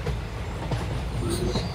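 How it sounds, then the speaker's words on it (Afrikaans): Freight train hauling iron ore rolls past at moderate distance, a steady low rumble of wagons with faint wheel squeal and clatter throughout, no talk over it. "Hier kom 'n trein."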